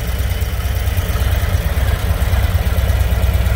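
A 2022 Harley-Davidson Road Glide ST with a Milwaukee-Eight 117 engine idles close by, giving a steady, loud, low throbbing rumble with no pauses or talk over it.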